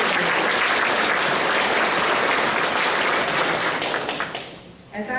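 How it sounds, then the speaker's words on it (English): Loud, sustained audience applause for 8th grade students at a College Prep Academy promotion ceremony, thick steady clapping that tapers off near the end, with faint voices beneath. "Let's give them just some applause"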